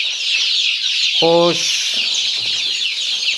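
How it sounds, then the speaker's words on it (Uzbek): Hens and roosters clucking in a poultry yard where both are sold, with a loud burst of squawking calls near the middle over a steady background of birds; a person says a word briefly. "tovuqlarimiz tuxumga kirgan tayyor xo'roz, makiyon aralash"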